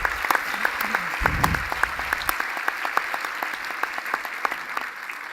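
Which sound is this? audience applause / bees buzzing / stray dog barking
audience applause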